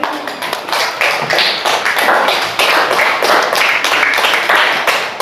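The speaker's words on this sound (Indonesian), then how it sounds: "tepuk tangan" A classroom of children clapping their hands together in a lively, dense burst of sharp claps, close and loud, continuing for several seconds.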